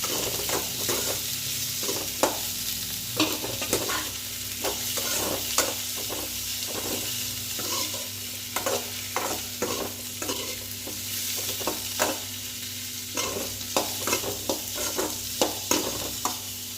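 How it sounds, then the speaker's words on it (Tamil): Tomato being sautéed in a pan for a dried-fish curry, constant sizzling with frequent sharp clicks and scrapes from stirring, close and steady with no speech. "இப்போ ஒரு தக்காளி எடுத்துருக்கேன், அதையும் சேர்த்து வதக்கிக்கலாம்."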